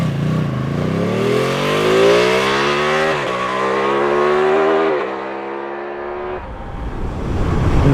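A Ducati Panigale V2 with a 955cc twin engine pulls under open throttle, its loud, close induction growl rising steadily in pitch through two gear changes before easing off, then building again.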